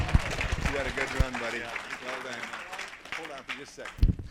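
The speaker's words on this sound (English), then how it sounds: "How about a round of applause for this veteran, everybody?" Audience applause for a veteran at a college-of-auctioneering class auction, scattered clapping from a crowd running under a voice that talks across most of it.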